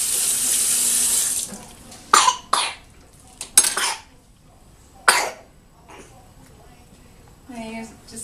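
A tap runs steadily for about a second and a half while a container is rinsed after dissolving Jell-O, then stops, followed by scattered clattering, a cough and brief sounds from a person nearby.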